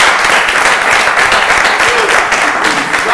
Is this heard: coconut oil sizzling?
no